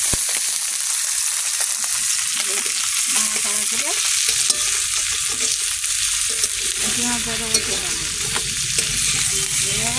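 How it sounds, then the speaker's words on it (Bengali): Small chopped onions fry in oil in a pan with a constant, loud crackling sizzle throughout, while a voice speaks briefly over it. "পেঁয়াজ দিয়ে দিছি আমাদের যে তেল দিচ্ছি"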